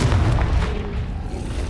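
A Confringo blast spell in Hogwarts Legacy, a loud booming burst with a heavy low rumble that dominates the short moment and then fades slightly.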